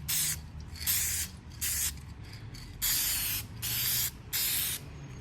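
Aerosol spray paint being applied in bursts to restore G-body quarter glass trim in black, with six loud, steady hissing passes of about half a second to a second each, separated by short pauses.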